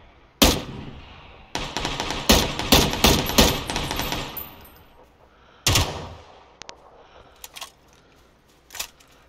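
An AK rifle firing 7.62 rounds: a sharp opening shot, then a rapid burst of loud, closely spaced cracks, followed by a few more isolated shots with echoing tails, close and dominant.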